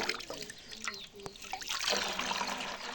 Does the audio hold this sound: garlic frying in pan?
no